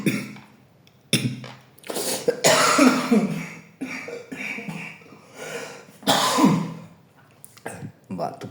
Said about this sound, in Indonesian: Batuk teman-teman.